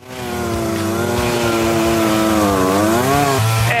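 A chainsaw cuts through overgrown vegetation, its engine droning loud and close the whole time with a steady, slightly wavering pitch, alone without voices.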